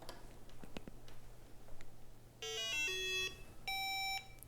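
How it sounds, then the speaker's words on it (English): A DIY Arduino metal detector with an LCD screen emits two short bursts of electronic tones over faint ticking and background hum. "We need to take on the metal detector."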